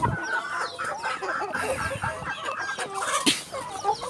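Bangkok fighting chickens cluck and squabble while being fed, a busy overlapping chorus of clucks and short squawks close by, with scattered scratching and rustling underneath.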